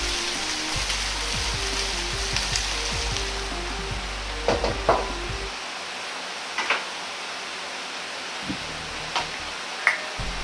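Pork stir-fries in a hot pan with a steady, loud sizzle and intermittent scraping and tossing of the meat, fading to quieter crackles and occasional pops toward the end.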